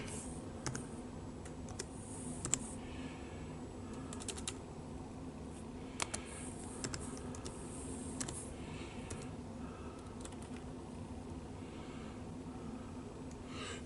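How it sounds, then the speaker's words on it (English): Computer keyboard typed on during a Mac OS X setup, scattered soft key clicks in short bursts, faint and close over a low background hum. "So I'm trying to type in my time zone."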